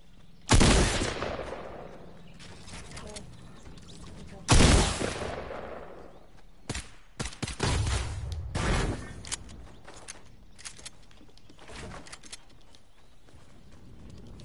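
Gunfire in a loot-based shooter video game: two loud bursts of shots stand out, followed by a cluster of shorter scattered shots, with brief talk in between.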